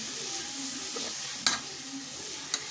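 Spicy mutton head curry with mint is stirred in a pan, a soft continuous sizzle broken by a few sharp scraping clicks of the spoon against the pan.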